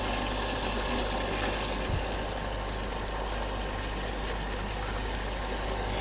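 An Elestar JETL-E smart jet water pump runs steadily, giving a constant loud hum and motor drone mixed with rushing, splashing water output, unbroken and without talk.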